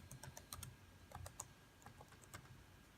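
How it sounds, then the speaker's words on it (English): Keys clatter softly on a computer keyboard as a password is entered, quick irregular taps in small bursts, faint and close. "So I'm just going to type my password."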